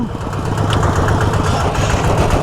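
A second-hand Thai i-taen farm vehicle runs in low gear, its engine chugging loudly and close with a steady rapid throb and vibration.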